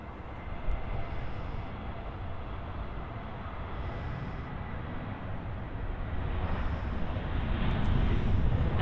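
A Boeing 737-800 airliner at Los Angeles airport, a broad, steady jet engine roar that swells slightly louder toward the end, heard from a distance and continuous throughout, with no talk over it.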